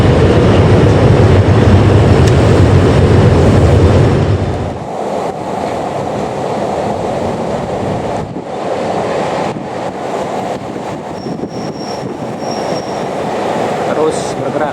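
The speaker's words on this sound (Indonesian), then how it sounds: "Terdengar di area gerbong datar bunyi rel yang ditarik." Steel rails dragged along a flatbed railcar during high-speed rail slab-track construction, a loud continuous grinding rumble that drops after a few seconds into a steadier mechanical din with faint high squeals.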